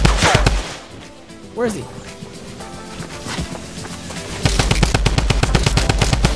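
Fortnite Battle Royale drum gun fires rapid, loud automatic bursts, one at the start and a longer sustained stream at the end, mixed with excited talking and game sounds.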